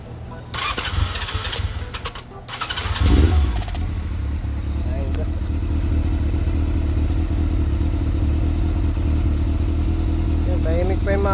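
A Honda CB400 motorcycle cranks with clattery bursts, starts after a bypass start without a key, then settles into a steady low idle, loud and close, with voices speaking briefly.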